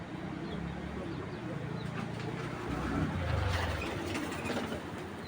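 A pair of old-breed Tota pigeons coo in low, soft murmurs against a steady background hum, with the cooing swelling slightly toward the middle.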